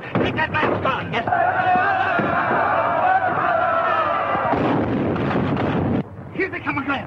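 Battlefield gunfire in a 1931 adventure film: a sustained, loud roar of rapid machine-gun bursts with sharp cracks, cutting out abruptly near the end before scattered shots resume.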